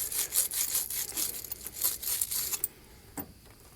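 A terminal cleaning brush is twisted back and forth on a car battery terminal, giving a quick run of close, raspy scraping strokes that then stops, with a single faint knock afterward.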